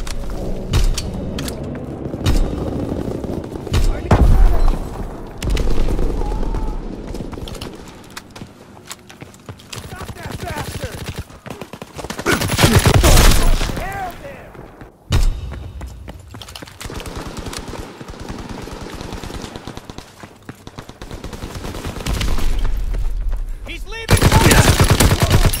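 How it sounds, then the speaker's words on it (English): Naval primary battery firing in Call of Duty WW2, heavy booming shots and rattling bursts spread across the clip amid game noise, with loud blasts near the end. "Firing primary battery."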